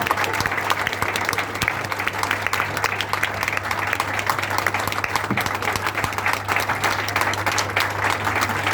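An audience at a Hindi poetry recital breaks into sustained, dense applause, loud and continuous throughout with no pauses, over a steady low hum.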